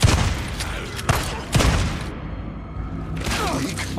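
Shotgun blasts in the Days Gone video game: a few loud, sharp booms spaced around a second apart, each with a short rumbling tail, under a continuous dense background of game ambience.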